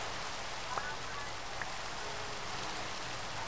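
Minecraft rain falls as a steady, even hiss throughout, with nothing else standing out except two faint brief blips.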